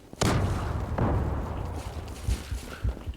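A bomb explodes in the online shooter Zula with a loud, close blast and a deep rolling rumble, followed by a second softer boom and a few thuds as it fades.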